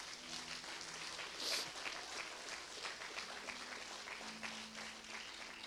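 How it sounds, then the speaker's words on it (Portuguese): Applause from a church congregation during a Portuguese-language celebration service, faint, steady clapping from many people at a distance, with a slight swell early on. "Vamos aplaudir a Jesus por isso?"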